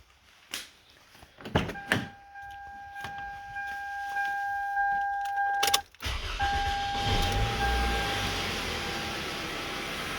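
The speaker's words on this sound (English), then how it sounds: "Then we start the engine." A 2002-2006 Toyota Camry engine cranks and catches after a few clicks and a faint whine, then settles into a steady, close idle that runs on evenly to the end.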